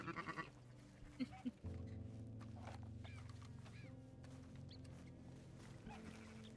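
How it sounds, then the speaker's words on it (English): A sheep in a Western roleplay video game gives a few short bleats near the start, then a steady low hum fills the rest of the clip with no talking. "It's a sheep."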